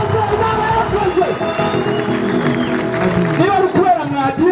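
A crowd at a TTC Garukushime 2024 church-style graduation gathering claps steadily under loud speech and babble, the applause a dense continuous patter running throughout.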